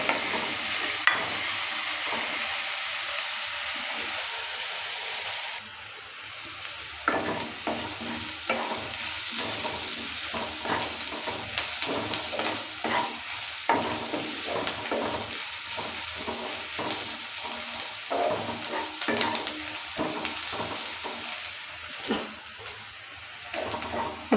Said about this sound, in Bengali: রসুন আর পেঁয়াজটাকে ভালো করে ভেজে নিলাম।